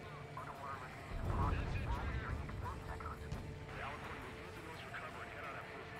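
Underwater explosions blow up jamming buoys in Ace Combat 7: a deep booming burst swells early and then fades into a low rumble, faint overall, with someone talking over it.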